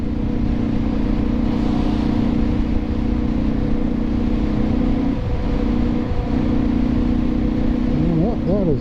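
A car engine holds about 4,000 RPM while cruising at 55 mph on the highway, a loud steady droning hum with road noise that wavers slightly near the end.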